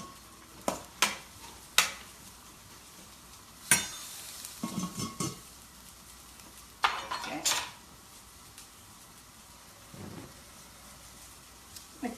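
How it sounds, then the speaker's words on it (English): Food cooking in a pan for a low-carb butternut squash and spicy turkey slider meal is stirred, giving scattered utensil scrapes and sharp metal clinks in short bursts over a faint, steady sizzle. "I'm going to give it a little stir."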